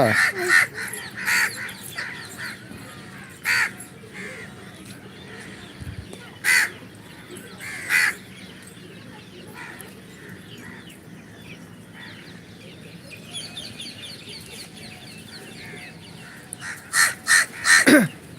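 Several crows caw repeatedly from nearby in an outdoor spot where biscuits are put out for them, with short loud bursts standing out against steady background noise.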